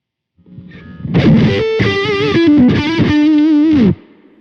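An electric guitar rings out with one parametric EQ frequency pushed far too high, giving a sustained, boomy, distorted phrase of several notes that plays loud and alone for about three seconds.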